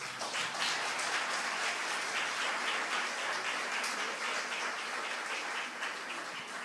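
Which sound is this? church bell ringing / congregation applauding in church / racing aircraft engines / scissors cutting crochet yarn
congregation applauding in church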